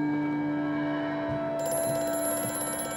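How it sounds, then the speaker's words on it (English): A telephone rings inside the horror video game Amnesia: A Machine for Pigs, a steady electronic ringing tone with a bright high overtone joining halfway, heard alone over a low ambient hum. "I don't want to answer this phone."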